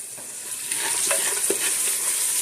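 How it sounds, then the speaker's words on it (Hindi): Ground cumin stirred into a simmering chicken shorba, steady soft sizzle with a few spoon scrapes against the pot, close and moderately loud. "कुटा हुआ ज़ीरा हम इसमें डालकर इस सबको अच्छी तरह से हम मिक्स करते हैं"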